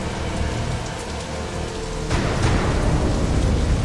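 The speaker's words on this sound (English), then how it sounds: "The caustic rain poisons groundwater." Heavy caustic rain pours down in a dense, continuous roar, growing louder partway through, with no voices.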